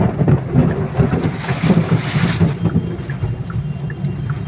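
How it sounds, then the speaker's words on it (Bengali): A heavy thunderstorm on a road near Siliguri: loud, steady downpour with a deep rumble of thunder swelling and fading beneath the hiss of the rain. "মারাত্মক বৃষ্টি হচ্ছে।"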